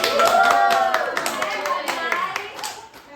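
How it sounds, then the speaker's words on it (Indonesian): Schoolchildren clap their hands together in a classroom during a peer-teaching lesson, a dense run of quick hand claps that stays loud and eases slightly toward the end, with children's voices talking over it. "Oke, tepuk tangan dulu"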